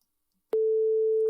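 A steady pure 440 Hz electronic tone from the right speaker begins abruptly after a brief click and holds at constant pitch and loudness, sounding alone like a hearing-test beep.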